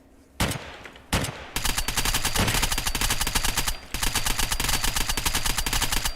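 Gunfire from the video game Unturned: two separate loud shots, then sustained rapid automatic fire that briefly pauses and resumes, with no talking.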